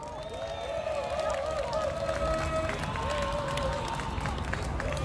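Outdoor crowd at a political rally in front of Busan city hall applauding steadily to welcome a speaker, with tonal whistles or music over dense continuous clapping for the whole stretch.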